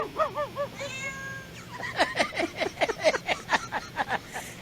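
Cat meowing several times in a row, clear rising-falling meows close by, followed by a quick run of chirpy vocal sounds in a rhythmic burst.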